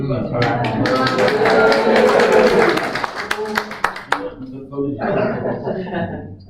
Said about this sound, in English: Do you want another round of applause?